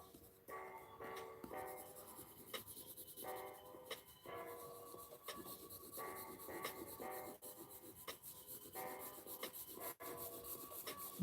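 Wax colour being rubbed and blended on paper to smooth it, a soft continuous scratchy rubbing in quick repeated strokes, close and quiet.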